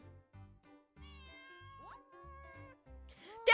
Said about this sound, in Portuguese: Tem um gatinho!